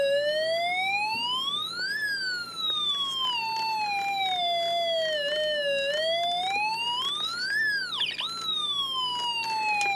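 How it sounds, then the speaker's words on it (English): A loud electronic tone from a Snap Circuits kit sweeps up and down continuously, wailing like a siren, with a sharp dip and swoop near the end. "Notice how the sound is now sounding like the siren"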